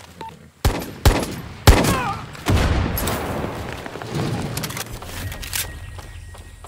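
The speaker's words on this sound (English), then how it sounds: "Is that gunfire? Yes. Yes, it is." Gunfire in the Far Cry 6 video game: several sharp, loud gunshots crack at uneven intervals, followed by a rumbling burst and lingering chaotic noise.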